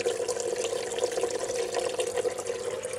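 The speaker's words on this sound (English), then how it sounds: "There's like a solid stream hitting the wall and it's spraying up the top." A solid stream of water hits the inside wall of a cheaply built DWC hydroponics pipe and sprays up toward the top, making a continuous rushing, splashing hiss that stays steady and close throughout.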